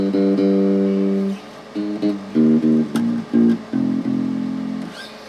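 An Ibanez Sound Gear bass with a banana neck played through a Roland Micro Cube amp: a short run of clear, sustained low notes, some held and some choppy, plucked alone without talk.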